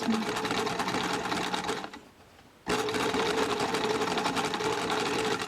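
A sewing machine stitches baby slip dress fabric, running steadily and close for about two seconds, pausing briefly, then whirring on at the same pace to the end.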